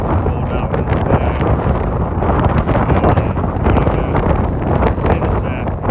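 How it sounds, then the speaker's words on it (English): Strong wind buffets the microphone on a Cornwall clifftop near Land's End, a loud, continuous roar of gusty rumble that swells and dips throughout with no break. "You probably can't hear a bleeding word I'm saying with this wind"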